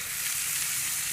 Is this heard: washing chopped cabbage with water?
no